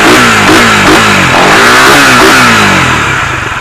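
RS150 motorcycle engine running steadily and revving repeatedly, loud and close with a rough mechanical rumble that rises and falls with each throttle blip, no talking.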